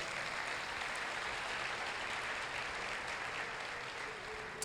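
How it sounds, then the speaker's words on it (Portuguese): A church congregation applauds during a morning worship service, a steady, fairly faint wash of clapping that holds evenly throughout with no voices on top. "Você pode aplaudir o Senhor Jesus?"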